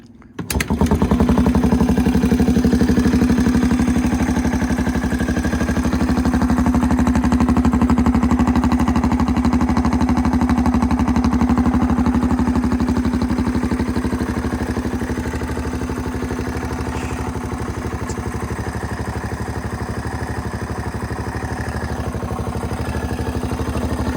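A kickstarted 1985 Yamaha BW200 motorcycle engine idles steadily up close, a continuous mid-pitched thrum with light mechanical clatter that dips slightly partway through.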